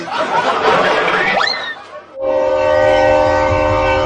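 A train rumbles loudly with a rising whistle or horn-like squeal, then a steady mechanical drone with sustained tones continues, close and dominant, with no talk.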